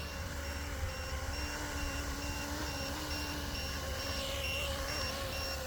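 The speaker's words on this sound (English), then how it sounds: "That's my 8 minutes up, and the beeper is at 8 minutes." A flight timer on a 3D-printed RC helicopter gives short, evenly spaced high-pitched beeps over the helicopter's steady droning hum, which continues throughout with no voices.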